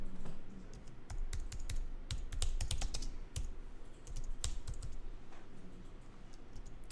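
Fingers typing on a computer keyboard, irregular bursts of sharp close key clicks with brief pauses between runs, no voices.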